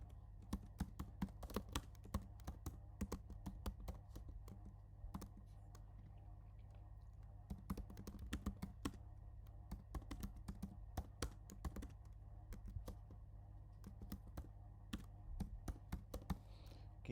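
Keystrokes on a computer keyboard as an assignment is entered in Google Classroom, quick irregular clicks in bursts with short pauses, faint and close over a low steady hum, no talking.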